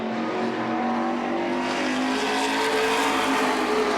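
Modified race cars roar around the Beech Ridge Motor Speedway oval, a loud continuous wash of engines with pitch shifting as the pack passes, no voices over it.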